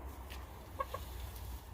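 Chickens clucking softly around a backyard compost pile, a few short clucks over a low background hum.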